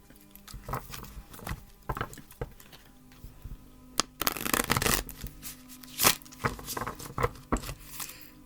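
A deck of cards being shuffled, crisp riffling bursts with a longer flurry in the middle, close and fairly quiet, no talking.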